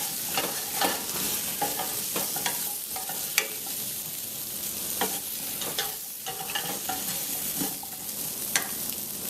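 Cubed potato tossed in a hot pan for a shrimp and potato curry, with clattering scrapes and a steady sizzle in irregular bursts of stirring throughout.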